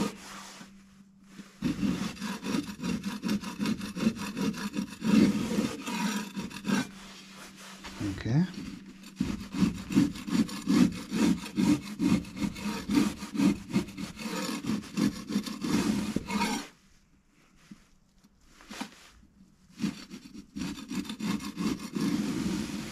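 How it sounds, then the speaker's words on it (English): Filing a small chamfer on the edge of a rusty replacement part for a Hunter Herald: repeated rhythmic rasping strokes, close and fairly loud, in long runs with brief pauses and a short quiet gap near the end. "put a chamfer on this edge and maybe this edge"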